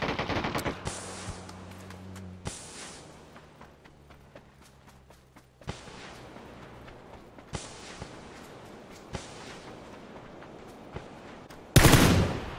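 Bursts of MG3 machine gun fire and other gunshots from a PUBG battle, heard as several sharp rapid volleys at middle distance, with a loud close burst at the end.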